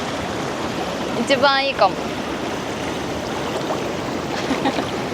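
A cold, fairly strong river current rushes steadily close by, an unbroken watery roar, while a person briefly speaks over it.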